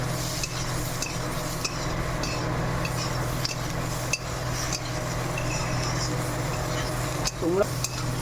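Soybean curry cooking in a pan is stirred with a utensil, giving soft intermittent clinks and scrapes over a low simmering sizzle and steady background hum.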